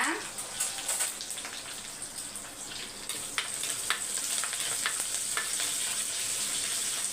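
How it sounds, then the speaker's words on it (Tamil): Garlic, curry leaves and broken dried chillies frying in a pan of oil, a steady crackling sizzle with occasional stirring clicks, close and fairly loud, with brief faint talk in the background. "கொஞ்சம் வந்து பூண்டு ஃப்ரை ஆகட்டும்"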